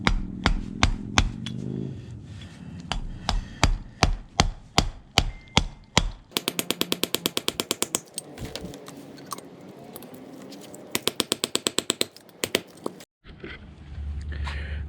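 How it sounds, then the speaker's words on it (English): A hammer strikes a bearing being seated onto a boat trailer axle, first in slow, sharp, evenly spaced blows, then in rapid bursts of quick taps, loud and close. "you go to town with the hammer"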